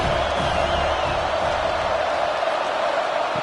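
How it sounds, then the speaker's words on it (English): Roaring stadium crowd in a college football video game, Washington vs. UTEP, swelling before a third-down red zone stand; a loud, dense, steady wash of cheering and noise throughout with no clear speech. "here comes the noise. This crowd is trying to inspire this defense to make a big red zone stop"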